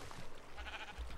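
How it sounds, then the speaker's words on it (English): Faint sheep bleats in the Minecraft video game while a black sheep is being sheared, a short soft bleat with a couple of low thumps, quiet and brief. "right now I'm shearing the black sheep here"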